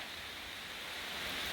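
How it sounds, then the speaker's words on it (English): Rain hisses at a campsite as a dense, even wash of noise, steady and fairly faint, with no voices. "The rain is definitely picking up."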